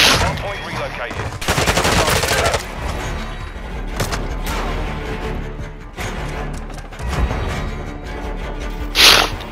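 Rapid automatic gunfire from Call of Duty: Modern Warfare 2 multiplayer, loud sustained bursts with sharp cracks and a final close blast near the end, with brief game voice lines in the mix.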